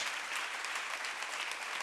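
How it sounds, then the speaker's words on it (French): Steady audience applause at a women's event, a brief unbroken burst of many hands clapping at moderate, slightly distant volume, with no voices over it. "Vous pouvez les applaudir très très fort."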